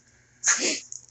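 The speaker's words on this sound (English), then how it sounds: "probably sneeze my head off here a few times" A single sharp human sneeze, close and loud, bursting out after a moment of near silence and lasting under half a second.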